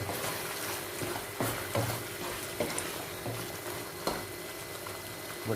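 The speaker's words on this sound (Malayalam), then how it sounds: "നമുക്കൊന്നുകൂടെ ഇളക്കി നോക്കാം" Pork roast being stirred in a pan, with a steady soft bubbling and sizzling bed broken by a few faint scrapes and knocks of the spoon, close by and with no voices.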